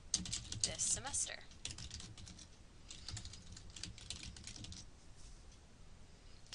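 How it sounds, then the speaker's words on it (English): Typing on a computer keyboard while entering a discussion topic into a web form, a quick patter of soft key clicks in bursts, faint and near, fading toward the end. "we're going to type in as a general topic, club meetings"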